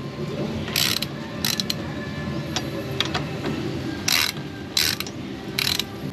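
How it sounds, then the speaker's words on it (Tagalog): A hand ratchet clicks in short, separate bursts as the two front wheel bolts are tightened on a KTM RC 390 motorcycle with the front brake held. Nearby, over a steady background hum. "So habang naka-brake siya, saka natin higpitan yung dalawang bolt."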